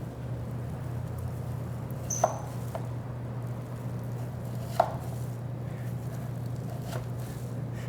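A knife slices through a Syrian ice cream roll filled and coated with pistachios, giving a few soft, sparse cuts spaced seconds apart over a steady low hum.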